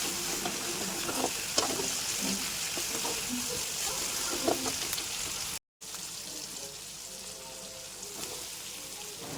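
Tomatoes softening in a pan with a pinch of salt, for aloo paratha filling, give a steady low sizzle with occasional stirring clinks, close and continuous, briefly cut out near the middle.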